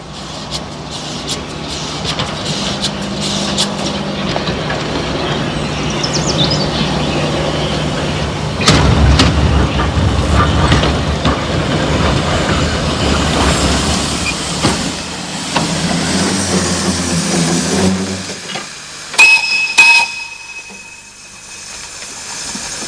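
A Beyer Peacock narrow-gauge steam locomotive train in Spain rattles through orange groves on a coastal plain, a sustained rumble and clatter with a steady low drone, swelling louder midway before fading, with sharp squeals and clanks near the end.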